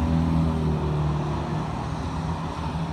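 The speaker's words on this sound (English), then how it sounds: "there's too many cars" Steady, dense roar of street traffic with many cars passing close by at the corner of Sanford Street and Apple Avenue outside the Muskegon County Building, a continuous loud wash of engines and tires with no break.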